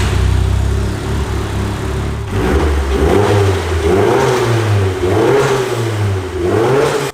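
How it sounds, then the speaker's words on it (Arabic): A Nissan Silvia S15 engine idles and then revs repeatedly in sharp rising and falling bursts, loud and close, before going on the dyno. "تعالوا الاول نسمع صوت المحرك قبل ما يتحط على الداينو."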